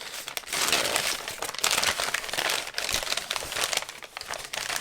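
A brown paper bag crinkles and rustles loudly and up close while a Bush Bandit knife is unboxed, with irregular bursts of crumpling and tearing-like crackles throughout.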